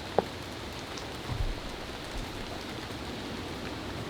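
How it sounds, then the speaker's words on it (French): Steady rain falls through dense Costa Rican jungle, a soft even hiss of drops on leaves with no voices, and a few sharper close drips standing out near the start and end. "en attendant que la pluie passe"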